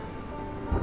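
Rain hisses steadily in a storm sound effect, with a low thunder rumble building at the very end of a brief moment.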